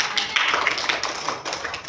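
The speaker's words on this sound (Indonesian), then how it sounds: "Beri tepuk tangan dong." Audience applause in an Indonesian classroom or presentation setting on taxation, a dense spread of hand claps sustained for about two seconds at moderate level with no talk.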